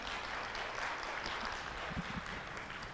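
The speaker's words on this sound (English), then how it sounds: "by all means, clap for them." A fairly faint, even wash of clapping comes from a seated audience at a talk, with a few closer hand claps standing out near the end.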